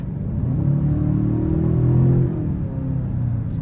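A 2026 Genesis G70 2.5T engine in sport mode hums steadily with a rising, revving tone partway through, a deep continuous drone close by with no talking.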